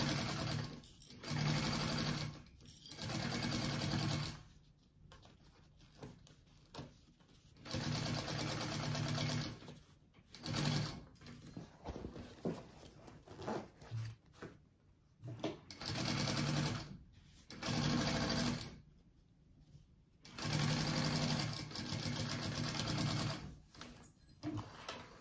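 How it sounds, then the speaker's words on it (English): A sewing machine runs in repeated bursts while stitching a zippered fabric hobo bag, steady whirring runs of a few seconds each separated by pauses, close and fairly loud. "I will use a full seam allowance to sew that on"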